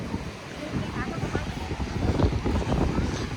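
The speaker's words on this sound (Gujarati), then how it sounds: "બહુ પવન છે" Gusty wind buffeting the microphone, rumbling and uneven, with voices talking faintly underneath.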